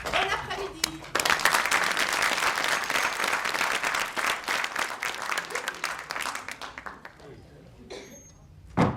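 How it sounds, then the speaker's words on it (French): Loud, sustained applause from a theatre audience greeting actors at a stage play, dense clapping that swells after the first second, thins out gradually and ends with a final short burst. "Les acteurs sont prêts et attendent vos applaudissements."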